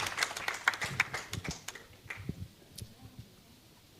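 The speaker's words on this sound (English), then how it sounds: "Let's give them another hand of applause." Applause from a conference audience at a data event fades out, starting with a few sharp claps that thin into scattered, fading hits, with faint room noise and a hint of voices underneath.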